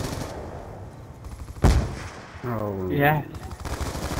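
A sniper rifle shot rings out once, loud and sharp, in Call of Duty: Black Ops II, followed by a brief tonal in-game effect, with players chatting over the match.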